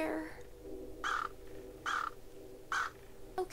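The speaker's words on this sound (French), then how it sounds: "On se fait martyriser par un corbeau" Crow caws in the video game Anna's Quest: three loud, harsh single calls spaced roughly a second apart, followed by the onset of a fourth, close and clear over quiet game ambience.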